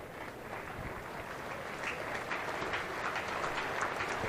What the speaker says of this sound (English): Big ripple of applause from what's quite a good crowd here at Emirates Old Trafford tonight